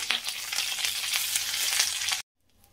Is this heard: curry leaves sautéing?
yes